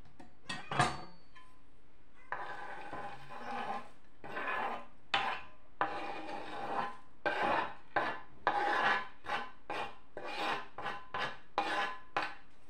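Spoon scraping and stirring oatmeal, banana and chopped nuts in a bowl, a rhythmic series of short rasping strokes with sharp clinks against the bowl, close and alone.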